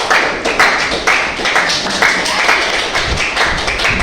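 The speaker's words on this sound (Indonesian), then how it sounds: "Kasih tepuk tangan untuk Najila." A classroom of students claps steadily and loudly throughout, a dense patter of many hands applauding together.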